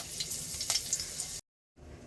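Curry leaves sizzle in hot oil in a kadhai, a quiet hissing crackle with a stirring clink, cut off by a brief silence before fainter sizzling resumes.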